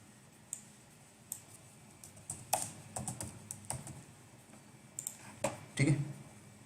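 Typing on a laptop keyboard, with scattered key clicks that grow into a faster burst toward the end, close and fairly quiet, with no talking.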